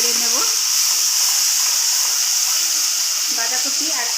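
Ginger and chili paste frying in hot oil in a pan as it is stirred, giving a loud, steady, continuous sizzle with brief voice sounds near the start and end.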